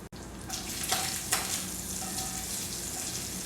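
Bacon frying in a pan during home meal prep, a steady close sizzle and crackle running the whole time with a couple of brief louder spits and pops.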